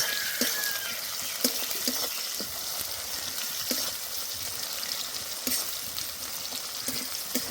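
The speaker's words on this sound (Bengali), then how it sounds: "দিয়ে দেবো কুচি করা পেঁয়াজ, পেঁয়াজটা ভালো করে ভেজে নেব।" Chopped onion frying in oil in a pan gives a continuous bubbly sizzle, with occasional scraping stirs and small pops, steady and fairly close throughout.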